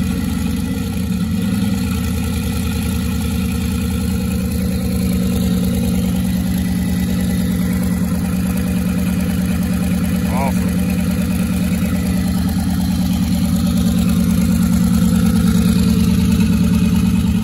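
A race car engine idles steadily and loudly for the whole stretch, its low rumble unbroken after firing up, with voices talking now and then over it.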